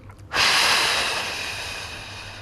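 A sharp forceful exhale during a Pilates mat exercise for back pain, starting abruptly and trailing off into a long, steady breathy hiss, close and alone.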